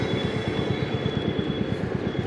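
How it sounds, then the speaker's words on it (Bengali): A train passes nearby on a road trip by motorbike from Kolkata to Puri near Santragachi, a steady low rumble with rhythmic wheel-on-rail clatter throughout, heard alone at moderate loudness. "পাশ দিয়ে একটা ট্রেন যাচ্ছে।"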